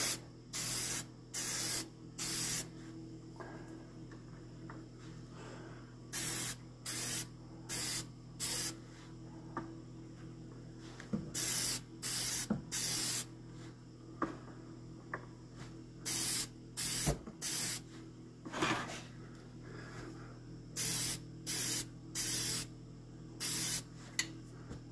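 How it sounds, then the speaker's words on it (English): Short bursts of a spray gun applying a third coat of paint to a car body hiss repeatedly in quick clusters, separated by pauses, over a steady low mechanical hum. "I always spray just a little bit on the side just in case there's a big clump"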